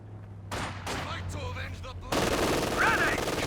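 Machine gun fire in a Company of Heroes 2 2v2 match: after a short stretch of in-game voices, a dense, loud, continuous rattling burst breaks in and keeps going to the end.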